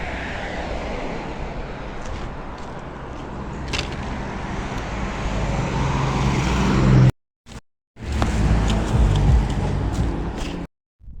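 Heavy car traffic rumbles steadily along a roadside, loud and close, with passing vehicles building and fading and a few abrupt brief cutouts in the sound.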